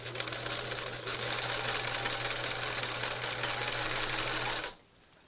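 A vintage JCPenney 0104 heavy duty sewing machine running a stretch stitch, a steady close mechanical whir with a low motor hum that holds evenly for several seconds before stopping abruptly.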